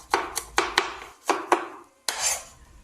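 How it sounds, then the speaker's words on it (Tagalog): A knife finely chopping onion on a board, about eight sharp, close knocks in an uneven rhythm with a short pause before a final scraping stroke, no voices. "Hiwa na rin tayo ng sibuyas mga katropa. Tarin na natin to ng pinong-pino."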